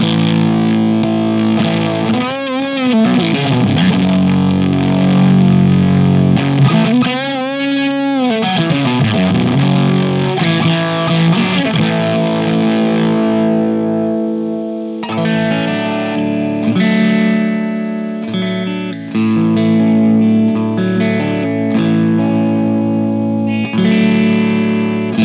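An electric guitar played through a Line 6 HX Stomp Plexi amp model rings out crunchy, distorted chords and sliding bends, sustained notes overlapping in a continuous phrase with no talking.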